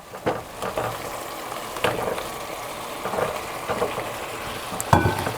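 Boiled mutton drops onto softened tomatoes frying in a karahi, giving a continuous moderate sizzle with scattered stirring scrapes and clatters throughout.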